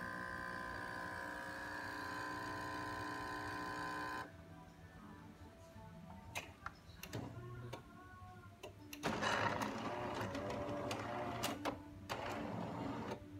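An espresso machine grinds beans with a steady mechanical whir, then clicks and runs its pre-brew and pump with buzzing and sputtering as a shot is pulled. The sound is close and fairly quiet, with no talking.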